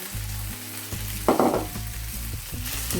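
Carrots dropping into a hot pan with stewed pork and onion, giving a brief burst of sizzle over a continuous low frying hiss and light stirring, close and short, no voices.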